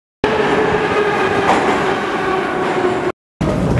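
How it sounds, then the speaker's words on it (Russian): A Moscow metro train pulls into the station with a loud, steady rumble and wheel roar, cut off briefly near the end before the noise resumes. "Сейчас приедет поезд, ура!"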